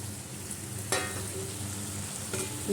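Rohu fish goes into a bubbling kalia curry in a hot pan, giving a steady moderate sizzle and frying hiss with a couple of short clinks from the pan or utensil.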